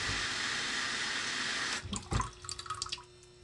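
Water pours from a tap for mixing jewelry casting investment, a steady rushing flow that cuts off and leaves a few splashes and drips close by, with no voices.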